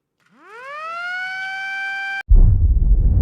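A ceremonial siren at the inauguration of Pertamina's RDMP Balikpapan integrated energy infrastructure in East Kalimantan winds up into a loud, steady wail, then cuts off abruptly and gives way to a burst of dense broadband noise.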